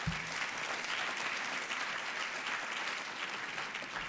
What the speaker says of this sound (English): Big hand for the panel again.